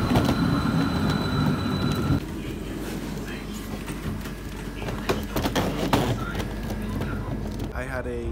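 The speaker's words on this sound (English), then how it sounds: "That is my train!" A train passing at a station in the early morning, a loud rumbling clatter that drops off after a couple of seconds into lighter rattles and knocks, with a short voice near the end.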